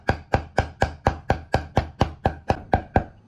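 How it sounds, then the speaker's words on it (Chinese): A kitchen knife chops meatball filling on a cutting board, mincing it for poached meatballs with radish, about thirteen evenly spaced, crisp, loud chops in a steady rhythm, close by and with no talking. "咱们多剁一会儿，剁成多大的颗粒呢？"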